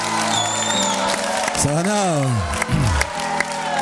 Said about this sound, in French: vous pouvez l'applaudir encore, hein, vous pouvez l'applaudir